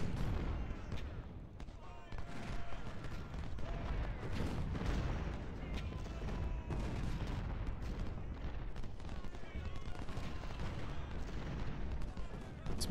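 Musket volleys and cannon fire in the Ultimate General: Civil War video game, a continuous crackling fusillade punctuated by deep booms, with a voice talking over the din.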